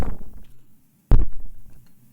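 A synthesized underwater rumble built from a low, throbbing synth patch with LFO modulation and several detuned voices: a deep pulsing drone fades out, then a sharp low thump restarts the rumble, which decays slowly.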